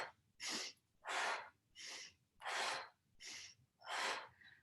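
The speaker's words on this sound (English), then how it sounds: "Now you inhale nose, exhale open mouth." Forceful breaths pushed out through an open mouth during a yoga breathing exercise, six broad rushing exhalations in a steady rhythm with short gaps between, close and fairly loud, with no talking.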